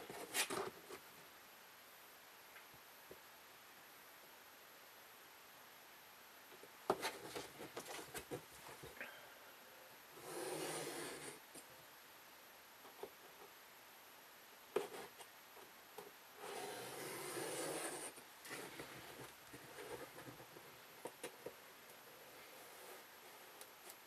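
A tool trims the edge of an old Superman comic book's paper in short rasping strokes, with a few quiet separate passes and light ticks between them in an otherwise quiet room.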